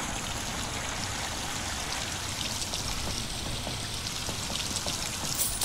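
Steady rushing and trickling water flows without pause in the video game Vampyr, a constant close wash of splashing with no voices over it.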